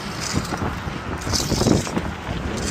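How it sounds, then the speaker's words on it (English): Wind blows across an outdoor work site where ADA mats are being installed, a loud steady buffeting rumble that hits the microphone continuously, with no voices. "Boy, is it windy out here."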